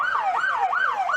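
A small ambulance siren at a street parade wails in a steady rising-and-falling cycle, loud and close, repeating about three times with no voices over it.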